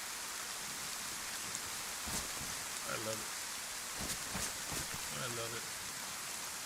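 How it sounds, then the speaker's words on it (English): Steady rain hisses across the whole scene in the survival game DayZ, a constant wash of falling water with short bursts of talk over it. "Sounds the rain, isn't it?"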